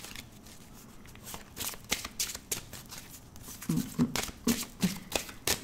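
Tarot cards being shuffled by hand before a reading, a run of riffling, flicking bursts that grow louder and more rhythmic toward the end, close to the microphone, with a voice faintly present.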